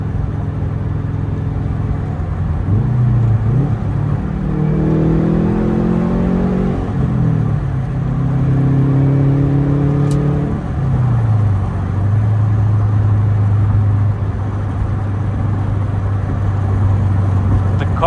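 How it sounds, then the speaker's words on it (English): A Subaru Forester XT with a cat-back exhaust drives along, a low engine drone rising and falling through several gear changes on a steady road rumble, heard from inside the car with the rear interior removed. "The car sounds so great with the cat back and with the rear interior out."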